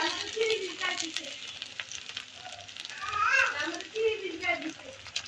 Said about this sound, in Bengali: আদাটাকে আমি একটু ভেজে নিব সুন্দর করে